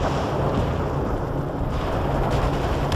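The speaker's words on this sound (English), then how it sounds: "Fire mission received. Artillery barrage inbound." Artillery barrage in the strategy game World in Conflict: a continuous dense rumble of explosions and heavy fire, loud and sustained throughout with no pauses.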